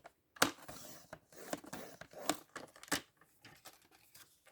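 Paper is folded and creased by hand while making a scrapbook album, with a run of crisp crinkles, sharp swipes and taps, close and fairly quiet with short gaps.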